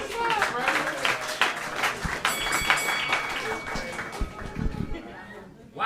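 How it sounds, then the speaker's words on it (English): Scattered clapping and crowd noise rise at a roast battle comedy show in NYC, fairly faint and mixed with chatter, fading toward the end. "Give him a round of applause."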